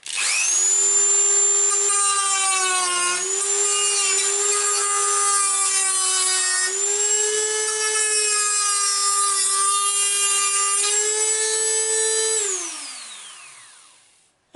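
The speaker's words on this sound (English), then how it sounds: "a Dremel with a cutting disc on, and I'm going to use that to cut those out" A Dremel rotary tool fitted with a cutting disc slices through plastic, giving a loud, steady high-pitched whine that holds for about twelve seconds, shifts pitch slightly as it bites, then winds down as the tool stops.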